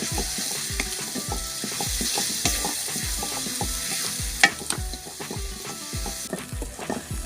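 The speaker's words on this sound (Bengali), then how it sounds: "রসুন বাটা হয়ে গেছে ফ্লেভার বেড়ে গেছে" Garlic paste frying in a pan with mutton and cauliflower, a steady moderate sizzle punctuated by regular rhythmic scrapes of a spoon stirring against the pan, with one sharper knock.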